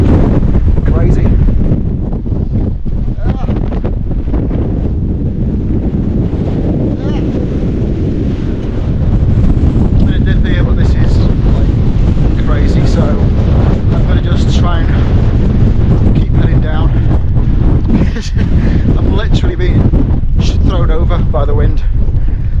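Strong, gusting wind roars across the microphone on a fell above Newlands, loud and continuous with buffeting surges and no breaks.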